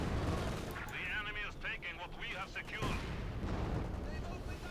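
Battle noise from the WWII strategy game Company of Heroes 2: dense, continuous machine gun fire and rumbling blasts of a Soviet-German fight, steady and loud beneath a commentator talking throughout.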